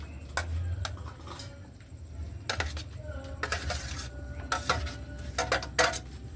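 Pancit noodles with cabbage being stirred in a pan, with scattered metallic scrapes and clinks of a utensil against cookware, fairly quiet and close, over a low background hum.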